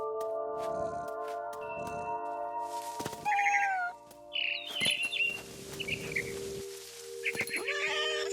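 Cat meows and short bird chirps in the game What Remains of Edith Finch, where the player controls a cat chasing a frightened bird, heard over a steady musical drone with brief scuffling sounds.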